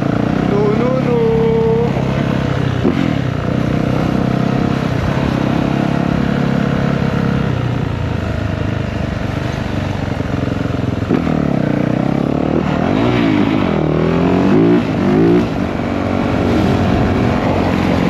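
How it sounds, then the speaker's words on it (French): Police motorcycles pass through busy Miami traffic, a loud continuous engine drone with rising and falling revs, mixed with surrounding car noise and a voice talking over it. "La police en moto"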